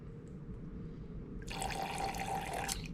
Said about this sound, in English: I'm going to force all of that 50 mils of water through.